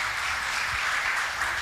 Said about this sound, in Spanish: ¿Qué tal si le damos un aplauso a mi Sarita?